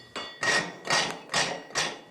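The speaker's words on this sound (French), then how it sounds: "le métal s'incline, subit les coups du marteau pour lui donner forme et l'aiguiser" Five evenly spaced hammer blows strike metal on a worktable as it is shaped into a pickaxe, each one a sharp, ringing clang with a short decay.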